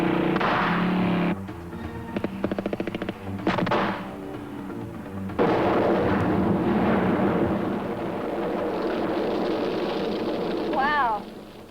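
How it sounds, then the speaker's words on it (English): A stun shot fires with a loud, broad roaring blast that carries on for several seconds, layered among other effects and voices. "I think I'll use, yes, a stun shot."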